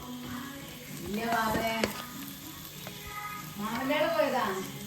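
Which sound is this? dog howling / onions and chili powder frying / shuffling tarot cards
onions and chili powder frying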